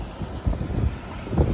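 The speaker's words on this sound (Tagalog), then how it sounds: "Lakas ng hangin dito Fathers!" Strong wind buffets the microphone outdoors at an abandoned resort, coming as low rumbling gusts that swell and fade over a steady windy background.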